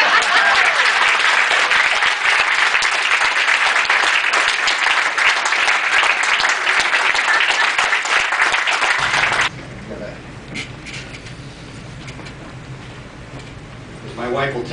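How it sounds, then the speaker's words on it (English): Audience at a Sierra Madre city council meeting applauds the departing mayor, John Buchanan, with loud, dense clapping for about nine seconds before it cuts off to quiet room tone and a faint stir. "give a great cheer to our departing John Buchanan."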